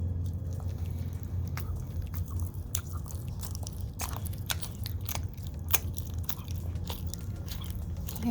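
Shaggy the dog eagerly chomps homemade dog cake up close, with steady wet chewing, smacking and crunchy bites running continuously at a soft level.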